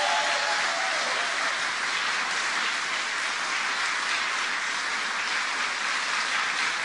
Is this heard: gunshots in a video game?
no